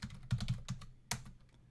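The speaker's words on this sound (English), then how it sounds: "I type in my username" A username typed on a computer keyboard: a quick flurry of close, crisp key clicks followed by a single firmer keystroke, quiet and alone.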